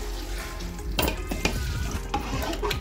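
A spoon scrapes around a pot of chicken curry in several sweeping strokes while the contents bubble and sizzle softly underneath, cooked over a wood-fired clay stove.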